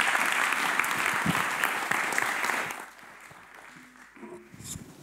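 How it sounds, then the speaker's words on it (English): A warm burst of audience applause greets a graphic designer and curator arriving to speak at a data-visualization event, loud for a few seconds before thinning out; a single voice follows as the clapping dies away. "So give a warm applause for Dennis Elbers."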